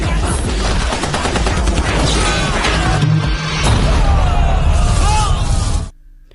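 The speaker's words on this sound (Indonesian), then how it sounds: "Martin kemudian menembaki dengan membabi buta" Rapid, blind gunfire from a film action scene, sustained loud bursts and pops packed over about six seconds with tonal score and effects underneath, then cutting off abruptly at the end.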